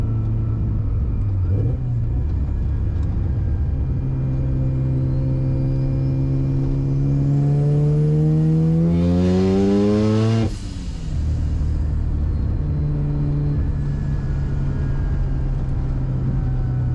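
A turbocharged car on a race track builds boost, its engine note rising steadily over several seconds with a climbing turbo whine, then a sudden release before the engine settles back into a steady drone.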